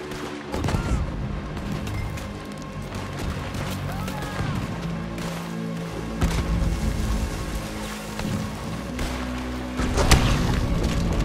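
Heavy cannon booms during a gunfight in the western game Red Dead Redemption 2, recurring over a constant rain-like rumble of battle noise with scattered gunshots and a big blast near the end, voices speaking underneath.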